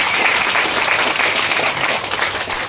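An audience claps warmly for Surender sir, their leader, at a business plan event, a dense and loud round of applause that stays full and continuous throughout.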